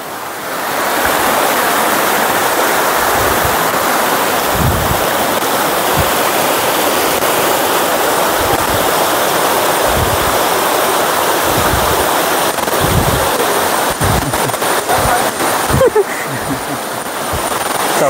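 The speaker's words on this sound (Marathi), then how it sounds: "ते सगळं पाणी म्हणजे बारमाही वाहणाऱ्या नद्या आहेत म्हणजे झरे आहेत हे सगळे" Perennial springs and streams run past a Konkan village farmstay, a loud, unbroken rush of flowing water with a few low thumps beneath it and no one speaking.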